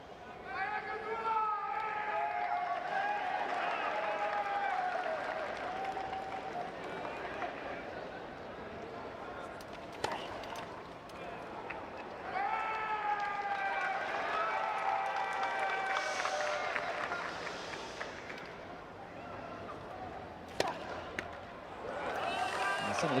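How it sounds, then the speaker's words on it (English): Spectators at a Rio 2016 Paralympic wheelchair tennis men's doubles gold final between Great Britain and France shout and cheer in rising, excited bursts, with sharp thuds and claps cutting through a steady crowd roar. "Some of the crowd getting a little overexcited"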